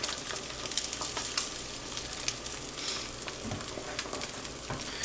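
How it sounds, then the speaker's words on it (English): Farmer's market eggs fry in a pan, a steady close crackle and sizzle with small pops throughout, alone without any voice. "And we'll let it cook just, I don't know, maybe 15 more seconds, and then give it a little flip"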